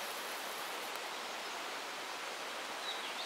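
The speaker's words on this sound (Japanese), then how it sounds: "この滝細いけどいい感じですよね" A small, thin waterfall at Aonohara Auto Campsite gives off a steady, even rush of falling water that holds constant throughout, with no voices.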